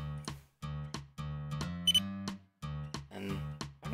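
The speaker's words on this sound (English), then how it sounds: "But there was a beep" A short high electronic beep sounds briefly amid a series of sharp clicks and taps, with no voices.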